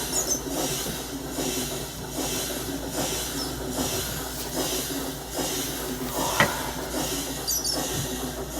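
A train riding along a high-speed main rail line in Minecraft gives a steady, rumbling hiss with a faint rhythmic pulse and a brief sharp click near the end, heard on its own.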